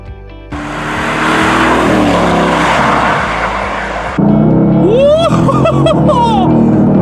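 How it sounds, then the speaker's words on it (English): A Mercedes AMG GT S accelerates hard, its engine roaring loud and close for several seconds before cutting off abruptly, after which someone talks excitedly. "this thing is absolutely wildly fast. Wildly. That is truly some unbelievable acceleration."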